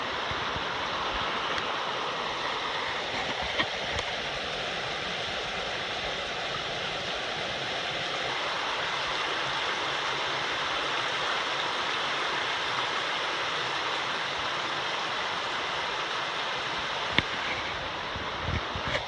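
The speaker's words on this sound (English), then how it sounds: "So let's go with creek crossing number" A creek in the Great Smoky Mountains rushes steadily over rocks, a close, continuous watery hiss that holds alone throughout with only faint incidental knocks.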